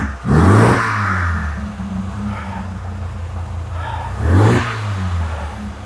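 A cold MGB engine idling roughly in a garage after an oil change, with two uneven revving surges rising and falling around a low, unsteady idle drone, close by.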